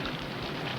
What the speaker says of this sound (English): We're all grateful for the rain